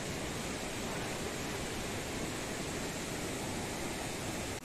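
A fast mountain river at Varzob roars as a dense, steady broadband rush of water, constant and enveloping, with no voices over it.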